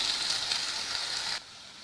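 Onions frying in a pan for a quail pepper fry, a steady close sizzle that drops abruptly quieter near the end.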